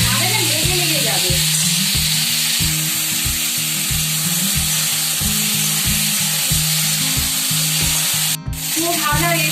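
A close, steady sizzle of taro pieces frying in a small amount of oil in a wok, with occasional scraping stirs and a pulsing low hum throughout, briefly interrupted near the end.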